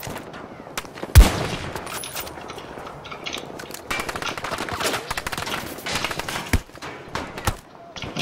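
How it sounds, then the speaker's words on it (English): Bursts of video-game gunfire from Battlefield 2042, with a loud sharp shot near the start, then scattered rapid volleys and single cracks in a busy, noisy mix. "Can't even see your gun, but you're shooting me."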